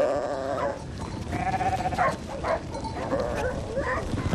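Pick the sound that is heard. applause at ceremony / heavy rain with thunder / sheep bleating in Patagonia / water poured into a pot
sheep bleating in Patagonia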